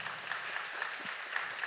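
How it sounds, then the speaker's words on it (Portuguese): Church congregation applauding after a sermon, a faint, dense wash of clapping continuing steadily without voices. "Aplausos."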